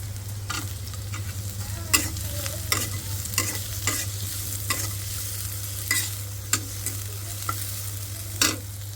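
Onion and green chilli sizzle in hot oil in a pan while a spoon stirs and scrapes, sharp scraping clicks recurring irregularly over a constant frying hiss and low hum, close and clear.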